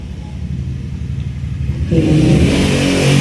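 Motor tricycle engine outside a house, heard through a closed door, a low rumbling idle that swells into a louder revving roar partway through.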